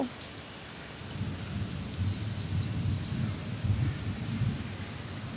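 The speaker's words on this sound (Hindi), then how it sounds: "ये सीज़न की पहली बारिश जो रात को हुई थी उसका वीडियो क्लिप है" Steady heavy night rain, the season's first, pours down while low thunder rumbles continuously underneath, close and enveloping.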